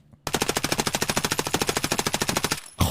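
MP5 submachine gun in Escape from Tarkov firing one sustained full-auto burst of about twenty-five rapid, evenly spaced shots, loud and close, then stopping abruptly.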